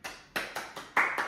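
Hand clapping: six sharp, evenly spaced claps from one person, close and clear, with a brief pause after the first and a slightly louder clap near the end.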